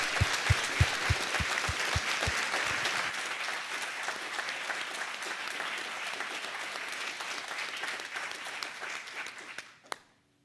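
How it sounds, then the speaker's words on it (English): Audience applause for the graduating classes at a World War II studies graduation ceremony, with a few sharp claps at first, then dense steady clapping that fades and stops abruptly near the end. "Round of applause."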